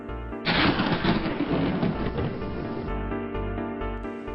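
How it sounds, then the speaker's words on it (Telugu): A lightning strike brings a sudden loud crack of thunder that swells into a broad, heavy rumble and slowly fades, with no voices. "అటువంటప్పుడు అక్కడ ఒక పెద్ద మెరుపు వస్తుంది దీనిని పిడుగు అంటారు"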